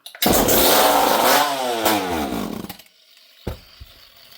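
A Poulan 5200 chainsaw, unused for six years, fires up and roars at high revs close by, its pitch wavering, then cuts out. After a brief pause comes a short sputtering burst.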